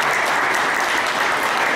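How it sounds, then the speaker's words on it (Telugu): Dense, steady applause from a ceremony audience at the closing of a road-safety and fuel-conservation event at an RTC bus depot in Jagtial, loud and close, filling the whole moment without pause. "ఒకసారి గట్టిగా చప్పట్లతో"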